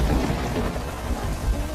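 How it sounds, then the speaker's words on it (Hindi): Heavy rain pours steadily with low rumbling thunder beneath it, a dense continuous wash of noise that stays loud and even from start to finish, with no voices. "लखन का परिवार तेज बारिश में बीच सड़क पर भीग रहा था"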